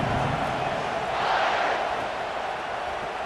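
Stadium crowd noise from the College Football 26 video game during Texas A&M vs Texas, a steady broad roar that swells slightly midway and holds at a moderate level without any speech.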